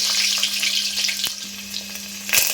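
Mustard seeds splutter in hot oil with turmeric in a home kitchen. A close, bright crackling sizzle carries sharp pops at intervals over a faint steady hum.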